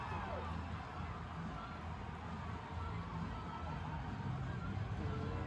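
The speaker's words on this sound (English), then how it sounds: "Oh, I hear cheering and they're skating towards..." An ice hockey crowd at a Rangers game cheers and roars as a dense, steady wash of noise that holds at an even level throughout, with no single voice standing out.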